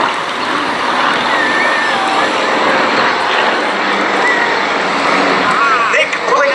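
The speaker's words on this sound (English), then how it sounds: "here are Yaks 1, 2 and 3 in from our right to create a tunnel of smoke for Yak 4 to fly through" Yak aerobatic aircraft fly in formation at an air show, their engines giving a loud, sustained droning roar with shifting pitch as they pass, under a commentator's voice.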